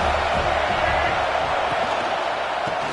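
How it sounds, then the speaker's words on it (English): Steady roar of a football crowd at a game, a dense wash of cheering and noise filling the stadium, loud and continuous without clear breaks. "This crowd bringing the energy and noise early."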